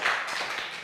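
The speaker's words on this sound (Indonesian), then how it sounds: "Ya, tepuk tangan." Hands clapping together in a classroom, a brief burst of applause from a group of students, dense and steady at moderate loudness with no talking.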